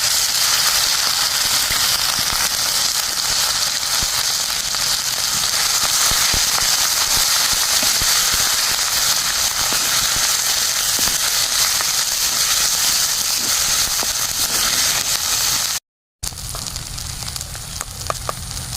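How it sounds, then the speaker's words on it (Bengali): Ground spice paste sizzles hard in the oil left from frying koi fish, a loud, continuous crackling fry that runs on unbroken before a brief cut, then resumes with stirring. "মাছ ভাজার তেলের মধ্যে মশলাটা কষে নিব"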